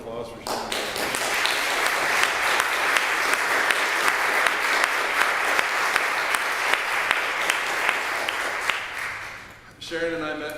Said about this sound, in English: How about another round of applause for Sharon?